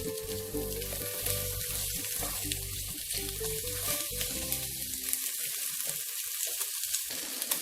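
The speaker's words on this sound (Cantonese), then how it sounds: "煎一煎嗰啲排骨。" Pork ribs pan-fry in a wok for a rib and choy sum soup, a constant loud sizzle and crackle that carries on throughout with no voices.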